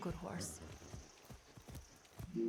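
Horse hooves clip-clopping in the video game Far Cry 6, a brief run of rhythmic thuds at a steady trot, near and moderately loud, mixed with a man's speech.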